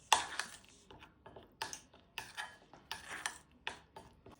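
Broccoli being stirred and tossed with turmeric, chaat masala and roasted gram powder in a bowl, giving a string of scraping, clinking mixing strokes at a steady irregular rhythm, close and fairly quiet.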